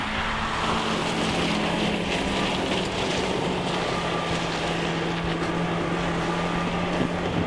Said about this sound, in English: a tiny Suzuki SJ Samurai, powered by a 1000cc engine